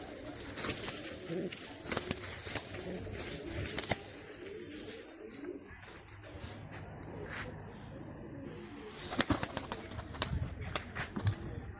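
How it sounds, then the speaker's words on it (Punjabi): Three released pigeons flap their wings in quick bursts at the start and again near the end, with soft cooing and outdoor ambience between. "ਤਿੰਨ ਕਬੂਤਰ ਛੱਡਾਂਗੇ ਅੱਜ ਆਪਾਂ"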